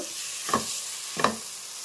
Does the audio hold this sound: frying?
yes